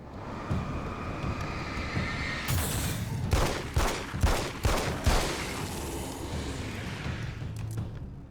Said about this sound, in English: I love the way the gun, this 9mm sounds.